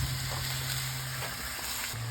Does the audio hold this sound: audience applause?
no